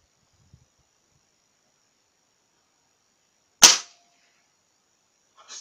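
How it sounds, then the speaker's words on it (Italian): A Torpedo 150 bullpup air rifle fires a single sharp, loud shot that stands alone in near silence, with a faint click just before it and a small rustle just after. "Lo mettiamo in posizione. E andiamo a sparare."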